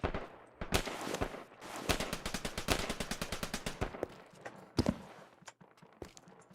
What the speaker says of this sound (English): Who's popping shots like that?